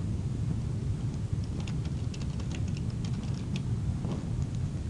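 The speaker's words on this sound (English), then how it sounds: "typing in that group name" Rapid keyboard typing clicks at close range, an irregular run of light keystrokes over a steady low background hum, with no voices.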